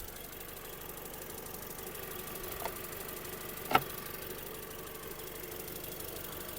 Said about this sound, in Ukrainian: Тихесенько працює мотор, завівся в співтику, не димить, не троїть